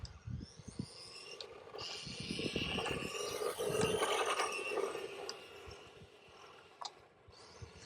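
A Hosim X06 1/10 scale RC truck drives back and forth, its small electric motor and gears giving a whirring, ratcheting mechanical buzz with scattered clicks and knocks, fairly quiet and close.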